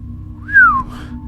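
A single person whistles a short rising-then-falling note, clear and close, over a low background hum, with no talk.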